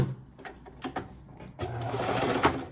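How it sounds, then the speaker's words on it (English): A home sewing machine stitching kimono fabric, first in short separate bursts, then a continuous louder run as it sews and back stitches; close and clear with no talk. "Putting my presser foot down, and I'm going to sew and then back stitch."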